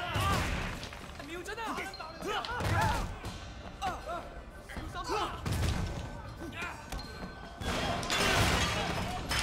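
Pottery smashes repeatedly in the game Sleeping Dogs, a series of loud crashes and thuds spaced a second or two apart, with shattering bursts and excited voices talking between them.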